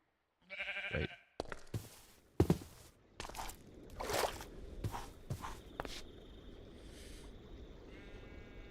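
A sheep bleats a few times in RLCraft, a hardcore Minecraft modpack survival game, amid scattered footsteps and knocks, then a steady low ambient hum continues.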